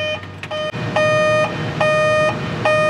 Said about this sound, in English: As you can tell, there's a warning buzzer.